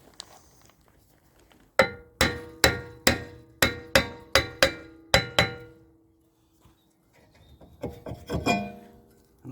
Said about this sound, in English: I can hit on the back of the disc to move it forward